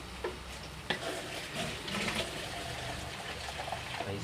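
Water is poured into mushroom soup simmering in a cooking pot, making a steady splashing trickle with faint stirring clinks. The sound is continuous and close, and no voices are heard.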